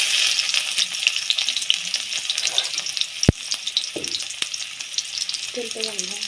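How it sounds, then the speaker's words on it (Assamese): Onions sizzling and frying in hot oil in a home kitchen, a steady crackling hiss throughout with occasional stirring clatter and a sharp utensil knock near the middle. "প্ৰথমে ইয়াতে পিঁয়াজ দিছোঁ।"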